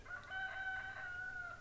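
A rooster crows once in a drawn-out, steady call from some distance away in a garden where hens roam, faint but clear over a soft background hum.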